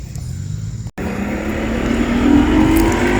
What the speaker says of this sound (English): You can hear that boat. They actually came kind of close to me